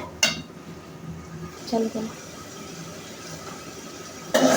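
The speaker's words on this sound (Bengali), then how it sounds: "আর একটু চিংড়ি মাছ দিয়ে কষিয়ে নিব" Prawns sautéing in a pan make a low background sizzle under a few metallic clanks and scrapes of a utensil on the pan, with a sharper clatter at the end.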